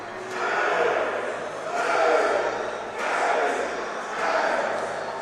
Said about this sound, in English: Very rambunctious crowd.